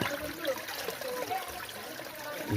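Water is poured out at a spring in Tanay, Rizal, trickling and splashing in a soft continuous stream, quiet and close, with no talk over it.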